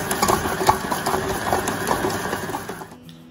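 Stand mixer running steadily as it kneads black sesame bao dough, a continuous mechanical whir with rhythmic motor knocking close by, then cutting off near the end.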